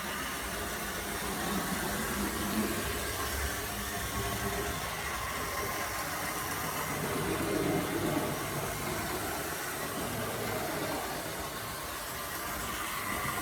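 A small motor in a vintage Class 31 model diesel locomotive runs continuously with a steady, noisy rattling whir, close by and unchanging for the whole stretch.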